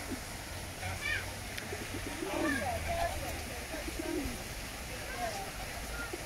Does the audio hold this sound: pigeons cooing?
yes